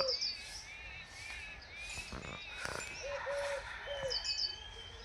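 House sparrows chirp and tweet repeatedly in quick bursts, with a lower cooing call mixed in, set against steady outdoor background noise.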